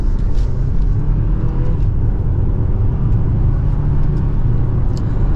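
A 2024 BMW X4 xDrive30i accelerates hard in sport mode in second gear, its engine a loud, steady, deep rumble from inside the cabin that holds for several seconds with no talking.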